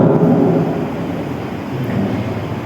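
Deep, rolling thunder rumbles continuously from start to finish, loud and dense with a slow fade, as a storm effect accompanying a tale of a great wind with cold air.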